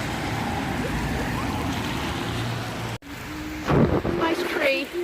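Steady rain falling outdoors in Oxford, a broad wet hiss filling the first three seconds, then a closer patter with brief bumps and a voice murmuring over it.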